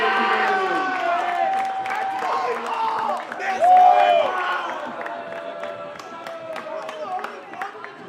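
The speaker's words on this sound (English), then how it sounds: "give a round of applause for our contestants for today" Audience clapping and cheering at a women's basketball game, a mixed crowd roar with people talking and a voice rising over it.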